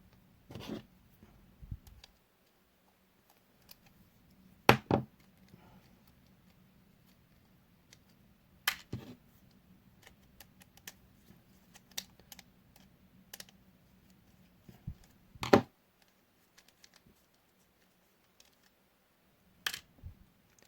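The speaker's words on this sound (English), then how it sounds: "we'll get the screws out and see" Small screws being worked loose and removed from an old Lima model railway shunter, heard as sparse sharp clicks and ticks of a screwdriver and plastic parts at close range over a faint background hum, with no talking.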